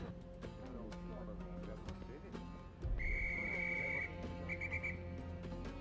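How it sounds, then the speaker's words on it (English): A sustained whistle blast sounds in the Murder on the Orient Express video game, a steady high tone held for about a second, then a shorter second blow, over background game music and ambience. "Who's blowing that whistle?"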